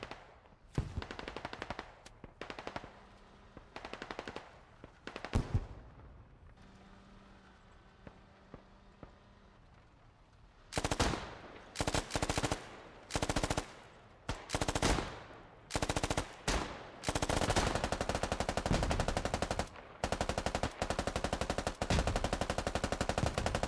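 Sustained suppressing gunfire in the military shooter game Squad: scattered shots early, then from the midpoint loud, dense bursts of automatic fire crackle almost continuously, with no talk over them.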